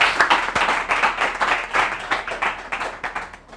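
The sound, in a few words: audience applauding loudly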